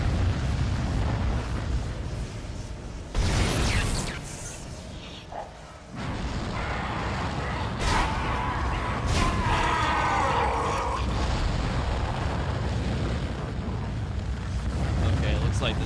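Burning enemy in the Dead Space video game, a roaring whoosh of flames with bursts and rumbling swells running throughout, while someone talks excitedly over it.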